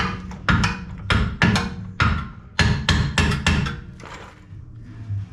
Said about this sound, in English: grab your hammer and just kind of straighten it out